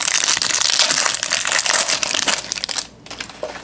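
A 2015 Topps Platinum football card hobby pack is torn open with loud, close crinkling and crushing of the wrapper, then a brief pause and quieter rustling.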